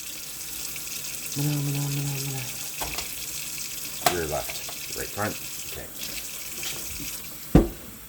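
Tap water runs into a soup pot on a kitchen stove, a steady hiss lasting a few seconds near the start, with a person talking briefly and small clunks of kitchen handling afterward.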